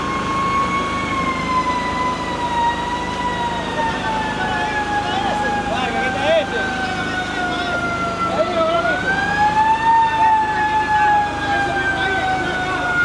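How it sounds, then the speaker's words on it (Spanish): A fire engine siren wails in a steady rising-and-falling sweep at a burning row of food businesses and shops, loud and continuous beneath street noise. "Se acerca otro camión del bombero."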